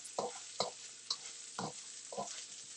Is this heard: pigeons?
no